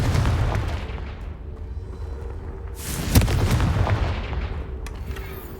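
Confringo blasting spells go off in Hogwarts Legacy, heavy booming explosions with a loud blast in the middle and rumbling tails, surrounded by steady game ambience.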